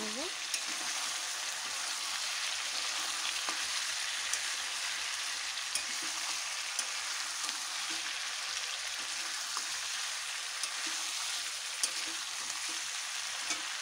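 Chicken with salt fries in a pan, giving a loud, continuous sizzle with faint scattered ticks from stirring throughout.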